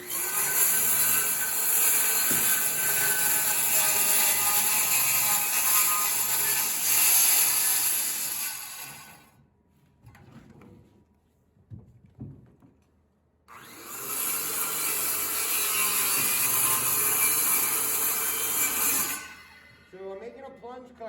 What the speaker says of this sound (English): So I'm making a plunge cut here, guys, so I need to lift my retractable guard to get the saw started